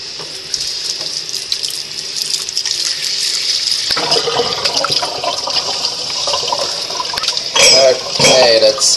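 An object is washed under a running tap in an artist's studio, with water splashing steadily into a sink and growing louder and more turbulent in the final seconds.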